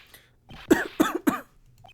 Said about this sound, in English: Just try not to give me that cough of yours